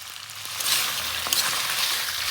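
Boiled mutton hits a hot kadai and sizzles in a loud, bright, continuous hiss for a couple of seconds, with a few faint crackles underneath.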